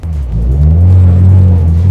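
A car pulls away and accelerates on a course around a pylon, its engine rising from a rumble into a loud, close, sustained revving drone that holds steady.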